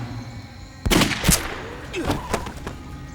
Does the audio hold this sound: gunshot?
yes